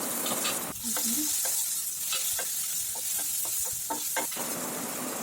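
Chopped tomatoes with dried chilies and cumin sizzle loudly in a pan, with repeated scraping spoon strokes and soft clacks stirring them at an uneven rhythm, close and continuous, no talking.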